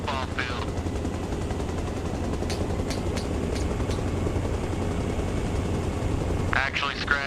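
Helicopter in ARMA Reforger coming in to land on a football field, a steady loud rotor and engine drone throughout, with brief sharp gunfire-like bursts in the middle and a voice talking near the start and end.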